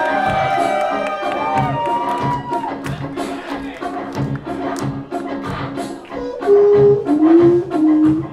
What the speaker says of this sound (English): How about a round of applause for the positive,